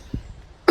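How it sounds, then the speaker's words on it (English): A single short human cough, with a faint throat sound just before it, close and alone. "I keep coughing."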